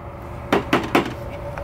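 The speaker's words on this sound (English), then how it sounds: "there was a knock at my door." Three sharp knocks rap on a door in quick succession, close and fairly loud against a low steady hum, with no voices.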